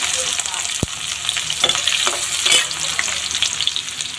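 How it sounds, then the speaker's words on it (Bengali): Chopped onion fries in hot oil with garlic and black cumin seeds, producing a loud, constant crackling sizzle with a few stirring knocks and clinks. "এখন একটু ভালো করে পেঁয়াজ এবং মরিচগুলো ভেজে নিচ্ছে"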